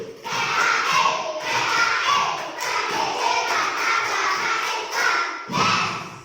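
Schoolchildren in a classroom shout a rhythmic clap chant together, loud and close, with bursts of group voices and hand claps in repeated phrases, a short pause near the end before the chanting resumes.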